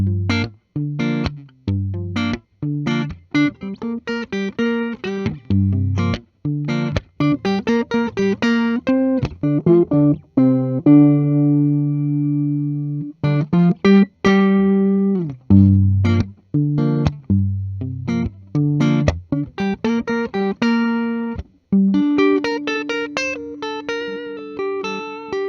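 A 2023 Fender MIJ Traditional 60s Competition Jazzmaster electric guitar played on its rhythm circuit, giving loud, close strummed chords and picked notes in a steady rhythm with a brief sustained chord midway, no voices.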